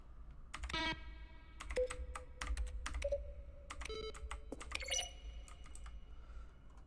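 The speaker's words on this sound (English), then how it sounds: "Each sound is a mix of a keyboard stroke and a synthesized tone." Sharp keyboard-like clicks, each paired with a short synthetic beep or tone, tapped out irregularly in a quiet room; no one speaks. Button sounds from the video game The Stanley Parable: Ultra Deluxe.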